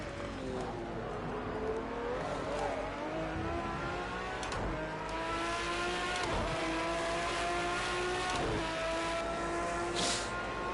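Race car engine on a Le Mans track warming up, revving steadily with rising and falling harmonic pitch, loud and close throughout, with brief shifts and passes of other cars.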